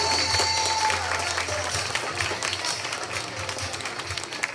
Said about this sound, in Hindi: बहुत बहुत बहुत जोर से ताली आएगी।